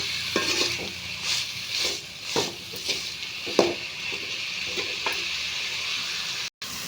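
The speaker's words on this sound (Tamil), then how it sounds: "வெங்காயம் தக்காளி நல்லா வதங்கிடுச்சு" Onions and tomatoes, salted with a little rock salt, sauté in a pan for pongal sambar, a soft sizzle under repeated scraping strokes of a spoon stirring against the pan.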